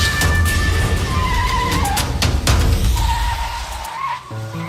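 A car engine revs and tires squeal as the vehicle speeds away in an animated story scene, loud and close at first, then fading out toward the end.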